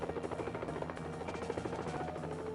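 Helicopter in the Mission: Impossible video game, a steady close rotor thrum with fast rhythmic chopping pulses, moderately loud and heard alone.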